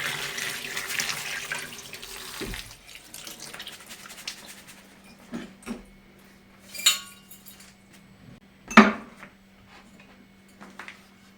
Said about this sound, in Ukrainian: Пшоно я промиваю.